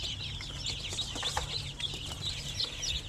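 Basilan chickens and chicks cluck and chatter steadily in a busy flock, with a low, constant rumble of background noise underneath.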